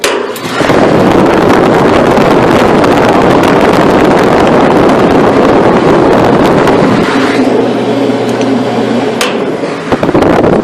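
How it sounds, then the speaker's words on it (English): A restaurant exhaust blower fan runs with a newly fitted, tighter belt, giving a loud, steady broadband roar that holds throughout, with a low hum settling in near the end. "way more power in the blower"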